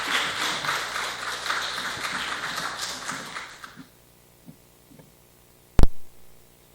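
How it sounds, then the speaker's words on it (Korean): A congregation at a Sunday church service applauds to welcome a guest speaker: several seconds of steady clapping that stops abruptly, then near-silence broken by a few soft taps and one sharp thump. "우리 성사님 나오실 때 박수로 환영하겠습니다"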